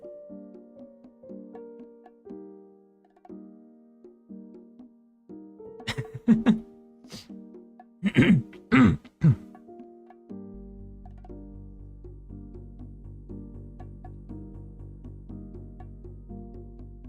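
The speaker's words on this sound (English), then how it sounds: "I'm gonna be, clearing my throat a lot" A few short, harsh throat-clearing bursts come close together midway, over a soft, steady backdrop of low tones.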